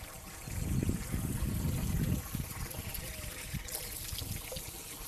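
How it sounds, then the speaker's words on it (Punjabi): Water running from taps at an outdoor shrine site, a soft steady trickle and splash under faint background voices, with a louder gush in the first couple of seconds. "ਦੇਖੋ ਟੂਟੀਆਂ ਚੱਲੀ ਜਾਂਦੀਆਂ ਪਾਣੀ"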